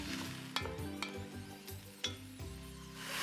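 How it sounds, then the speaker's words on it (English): Sliced white and cremini mushrooms sautéing in a pot give a faint close sizzle, broken by a few sharp utensil knocks and stirring clinks against the pot. "I got these mushrooms going. They're starting to get kind of brown around the edges"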